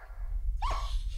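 A dog in Paranormal Activity 2 lets out a single short bark, close and moderately loud over a low rumbling background.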